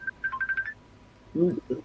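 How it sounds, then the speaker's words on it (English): A phone rings during a livestream group call: a short electronic beeping pattern, a brief pause, then a lower double tone. All of it is moderately loud and close. "somebody's phone's ringing."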